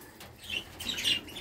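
Birds at a nest box give a few short, bright chirps close by, two quick bursts over a faint background.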